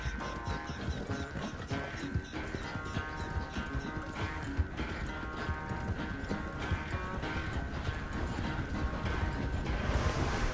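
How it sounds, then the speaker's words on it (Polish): Horse hooves gallop in Red Dead Redemption 2, a fast, steady clatter with creaking tack and rattling gear over a faint background music tone, close and continuous. "Zaraz mi się koń zmęczy."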